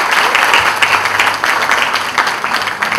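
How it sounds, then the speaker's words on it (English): A seminar audience of fashion design students applauds, a loud, close and continuous patter of many hands clapping with no talk over it. "let's have a round of applause"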